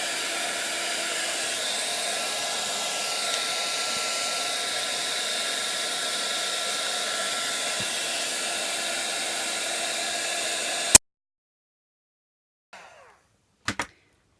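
A hair dryer blows steadily for about eleven seconds, drying spray ink on a piece of card, with a loud continuous whooshing hum. It then clicks off into near silence, and a few faint handling noises follow.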